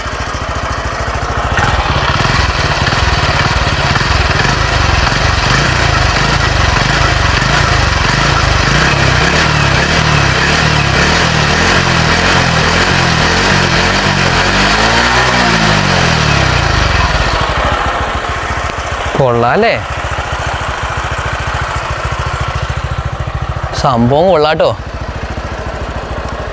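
A TVS XL 100 Heavy Duty moped engine runs close and loud with a steady, buzzing single-cylinder putter, slightly irregular at first, while someone talks briefly near the end.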